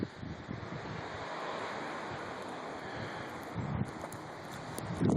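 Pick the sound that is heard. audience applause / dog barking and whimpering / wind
wind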